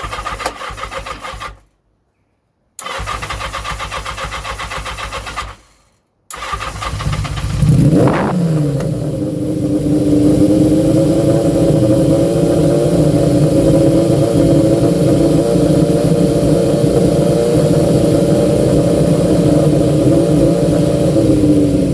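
A 1980 Yamaha XJ650 motorcycle on original carburettor jetting cranks briefly and catches, then settles into a steady, slightly high idle that drones on loudly and close by with no talking.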